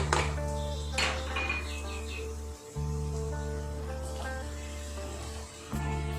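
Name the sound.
chopped cucumbers added to pan of spices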